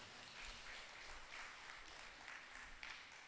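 Audience clapping at a Tamil spiritual discourse programme in Chennai, a faint, steady patter of applause heard from a distance.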